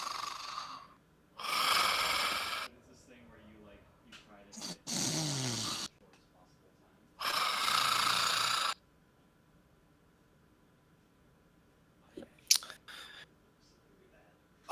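A voice imitates the heavy, slow breathing of a creature during a tabletop fantasy game, with several long, loud rasping breaths in and out separated by pauses, followed by quieter rustles and brief clicks.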